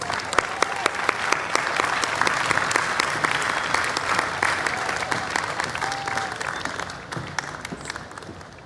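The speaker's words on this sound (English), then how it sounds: "Let's give her a big round of applause." A large audience at the World Culture Festival applauds to welcome a speaker, with dense, steady clapping that holds at a high level before thinning slightly toward the end.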